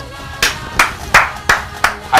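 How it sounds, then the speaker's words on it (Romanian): An audience at a morning sports event cheers dancers with applause heard as six sharp, evenly spaced claps, loud and close, about a third of a second apart, with no other sound between them. "Hai să vă aplaudăm"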